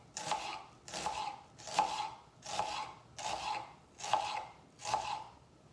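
A knife cuts an onion into thin strips on a board, seven even rhythmic chopping strokes with soft scraping, close and fairly quiet, no voices.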